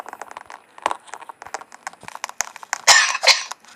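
Coughing characters in the Roblox game Natural Disaster, a run of short, sharp cough bursts in quick succession that grows louder and heavier toward the end.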